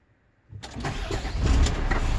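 A concrete pump truck's diesel engine starts with one abrupt turnover after a quiet moment, then settles into a loud, rumbling idle close by, with no one speaking.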